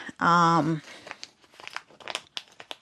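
Plastic travel pouches for skincare crinkling as they are handled, close-up rustles and crackles following a brief vocal sound at the start.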